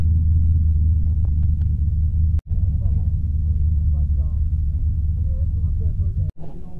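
A loud 1934 street car with huge rear tires pulls in at a cruise night, its engine a heavy, steady low rumble that fills the whole stretch, with two brief drops in sound.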